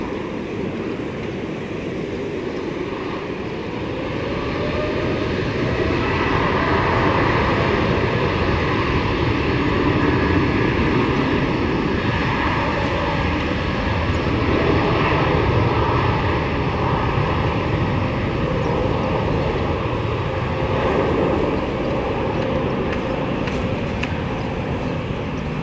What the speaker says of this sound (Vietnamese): đường băng 25 trái chiếc Boeing 7879 Dreamliner được lệnh cất cánh